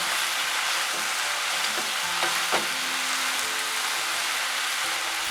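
Bean sprouts being stir-fried with noodles and shrimp for chow mein give a steady, dense sizzle at close range, with a few light clinks of the spatula against the pan and no talk.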